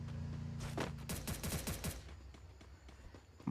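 Gunfire in the Free Fire video game: a rapid burst of automatic shots around the one-to-two second mark, preceded by a single shot and followed by a quieter tail, loud and close.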